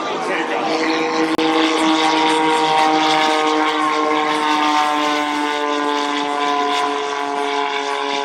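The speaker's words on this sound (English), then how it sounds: "watch this incredible takeoff" An airshow propeller plane with fireworks mounted on its wings takes off, its engine a loud sustained drone with steady harmonic tones, under a voice talking over it.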